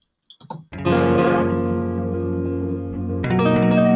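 After a few brief plucks, a thick, heavily processed chord from a Caribbean music sample swells in, smeared with distortion and reverb, then restrikes louder near the end.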